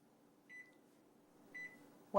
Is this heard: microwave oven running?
yes